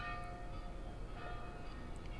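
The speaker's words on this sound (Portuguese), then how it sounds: "Não podia deixar de lembrar do Hemingway com esses sinos tocando agora" Church bells ring faintly in the distance, tones lingering under a low steady background hum.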